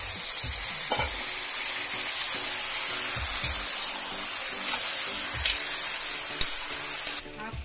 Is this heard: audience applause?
no